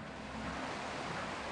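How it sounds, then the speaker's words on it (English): Steady, loud rushing water in the Thimbleweed Park video game, a broad, even wash of noise like surf heard close up for a moment. "the water's really loud"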